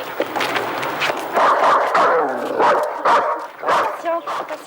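A dog barks repeatedly in a home setting, short harsh barks coming in a steady run close by, mixed with voices talking over them.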